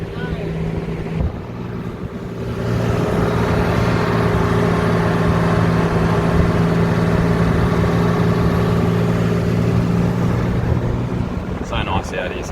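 Car driving on a bumpy, chopped-up sand track on a beach, its engine a steady loud drone with buffeting wind noise that builds after a quieter start.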